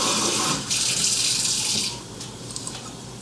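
A kitchen tap runs steadily while something is rinsed under it, a close, loud hiss of flowing water that thins out and softens toward the end.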